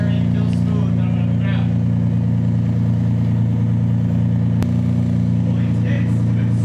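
A Mitsubishi 3000GT rumbling steadily as it is put in gear and driven after a fluid change, heard from inside with people talking over the engine and a brief click midway.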